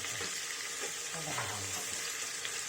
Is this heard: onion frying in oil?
yes